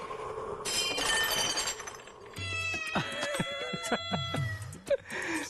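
A cat meows several times in a tense indoor scene from a Telugu horror film, the calls rising and falling clearly over a background of other effects and a sharp crash-like hit.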